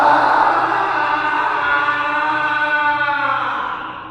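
A piercing, drawn-out scream at night in a haunted mansion, one loud continuous shriek with a wavering pitch that holds for about four seconds, then fades slightly at the end, with no talking.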